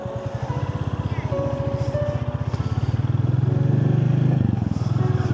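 Royal Enfield Classic 350 single-cylinder motorcycle engine while riding, a steady loud thumping pulse that rises slightly in pitch as it accelerates, with wind noise over it.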